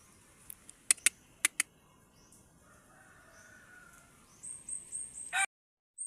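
Faint chicken calls with several sharp chirps early, then a distant crowing call near the end; quiet background, abruptly cut off.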